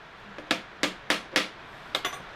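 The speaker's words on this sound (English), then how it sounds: "the tapping of the hammer" A hammer taps on metal in a workshop, six or seven sharp, close strikes at an uneven, deliberate rhythm, ringing briefly after each blow with quiet between.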